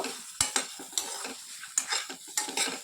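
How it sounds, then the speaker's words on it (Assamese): Onions and tomatoes frying in a pan, stirred with repeated scraping strokes every half second or so over a soft close sizzle, with no voices. "বিলাহী দি আপোনালোকে অলপ দেৰি এনেকৈ লৰাই ল'ব গোটেইখিনি"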